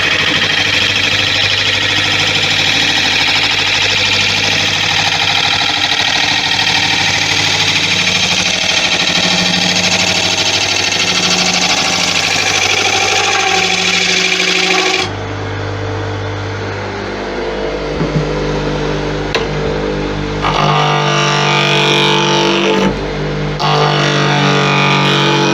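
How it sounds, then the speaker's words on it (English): A grinder runs continuously in a woodworking shop while a tigerwood bowl is worked, a loud steady whine that shifts in tone and drops partway through before resuming. "I'm going to leave the grinder running because I'm going to have to keep going back to it"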